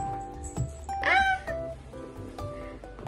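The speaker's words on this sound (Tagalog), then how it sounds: "sorry sa ingay yung pusa ko yun." A male cat lets out a clear, drawn-out meow close by indoors, with faint background noise and small thumps around it.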